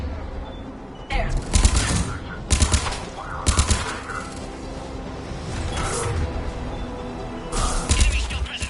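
Bursts of automatic gunfire at a checkpoint in Mass Effect 3, several loud rattling volleys separated by short pauses, with mechanical battle noise in between.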